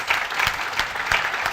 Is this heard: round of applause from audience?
yes